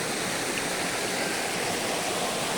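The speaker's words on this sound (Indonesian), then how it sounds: "ini tampak air yang gemericik suaranya karena turun dari" Babbling river water flows steadily between large rocks, dropping about 1.5 meters over a small fall along a rocky stream channel; a continuous, close, full rush of water with no voices.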